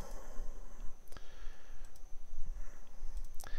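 A computer mouse clicks a few times, sharp isolated taps spaced irregularly over a quiet room hum, with one faint click early on and a firmer double near the end.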